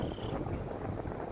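Strong wind blows outdoors at a bus stop, a steady low rumble and buffeting against the microphone that stays loud and unbroken throughout.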